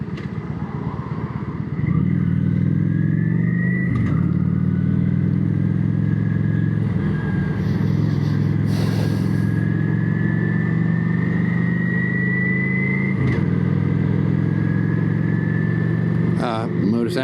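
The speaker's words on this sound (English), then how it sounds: "Motorcycles leaving. That's a little bitty, I don't know, like a 250 dual sport." Motorcycles pull away, including a small 250 dual-sport, their engines droning steadily with a rising whine of revs, heard with some nearby talk.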